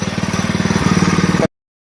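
A small homemade motor fitted with a sport exhaust idles close by in a fast, steady putter for about a second and a half, then cuts out abruptly into silence.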